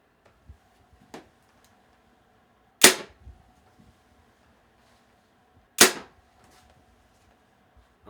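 Two sharp, loud releases of a 2025 Prime RVX+ 34 compound bow, each a crisp snap with a brief decaying thump, about three seconds apart, with faint clicks and handling noises between them.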